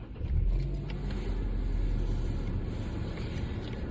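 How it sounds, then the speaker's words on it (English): A car engine turns over and settles into a steady, low rumbling idle heard from inside the vehicle, continuous and moderately loud throughout with no talking. "let me start the car so we can get going."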